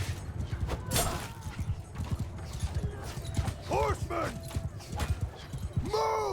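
Horses clip-clop and gallop in a medieval video game battle under cavalry, with rising whinnies and neighs breaking through the busy hoofbeats.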